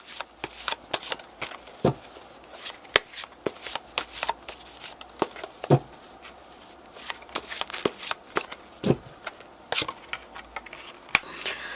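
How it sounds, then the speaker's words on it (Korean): Tarot cards being shuffled and drawn by hand, a steady series of crisp flicking and snapping card sounds at close range in an otherwise quiet room, with no talking. "힌트 카드 2장 뽑아보도록 할게요"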